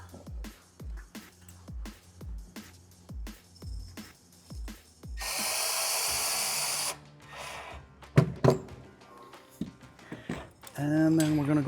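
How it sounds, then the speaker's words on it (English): A screw is driven into an RV solar panel roof bracket: a rapid series of short, evenly spaced mechanical clicks from a driver, followed by a longer hissing burst and scattered handling knocks. "We're going to run a screw in. Don't over tighten it."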